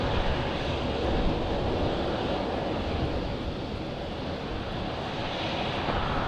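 An airplane at Madeira Island Airport, heard as a steady, broad engine roar that holds at an even level throughout, with some wind noise mixed in.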